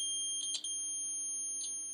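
A multimeter set to continuity sounds a steady, unbroken electronic beep while its probes touch the tips of insulated tools. The tone is clear and sustained throughout, with a couple of brief faint clicks near the start.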